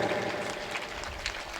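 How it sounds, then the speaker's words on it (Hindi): Brief burst of crowd applause from an audience at a Hindu Bhagwat katha gathering, a dense, fairly soft patter of many hands lasting under two seconds. "तालियां बजाएं।"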